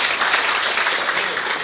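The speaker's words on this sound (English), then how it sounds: "I guess that's worth another round of applause" A roomful of listeners claps for a lightning talk, a brief, dense burst of steady applause heard close and alone.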